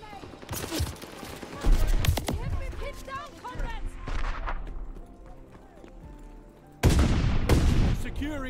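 Dense gunfire and explosions in the video game Call of Duty Vanguard, with bursts of shots, heavy booms and shouting voices layered over a constant battle din, surging loud again near the end.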